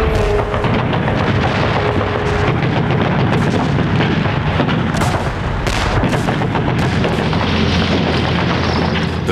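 Gunfire and artillery during the British 50th Infantry Division's World War II landing at Gold Beach, a loud, dense wall of booms and blasts rolling continuously with sharper cracks throughout.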